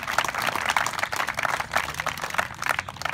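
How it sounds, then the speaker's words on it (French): A festival audience gathered outdoors before an evening screening claps, a loose, uneven patter of individual hands with distinct separate claps, fairly close and moderately loud. "vous pouvez applaudir"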